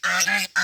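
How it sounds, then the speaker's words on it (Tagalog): Loud, nasal goose honks, two long calls in quick succession with a short gap between, close to the microphone. "ang ingay ni Gansa eh."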